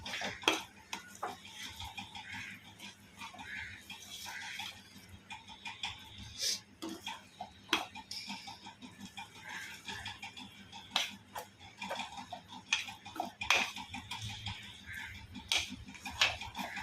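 A spatula stirs masala with salt in a pan for katachi amti, giving scattered sharp clicks and scrapes against the metal over a low, quiet background, irregular and close, with no voices.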